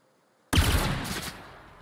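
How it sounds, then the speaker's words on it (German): Weapon being test-fired in The Outer Worlds, a single loud close burst of gunfire that starts abruptly and rings out into a fading tail. "Und wir können mal die Waffe testen."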